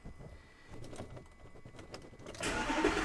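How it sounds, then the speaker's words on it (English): A Lamborghini engine cranks over with a few quiet, uneven starter turns, then catches and bursts into a loud, steady idle in the final half-second, close and alone with no talk. "watch now when I crank it."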